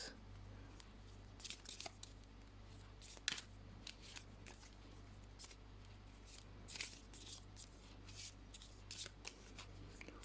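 Tarot cards are shuffled by hand, giving soft riffling and flicking bursts over a steady low hum, quiet and close with no voices.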